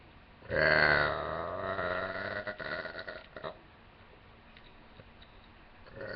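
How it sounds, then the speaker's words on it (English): A person burps after sipping soda, one long loud belch close to the microphone that tails off into a few small gulping, clicking mouth sounds, with no talking. "somebody asked me to request to do burps with soda"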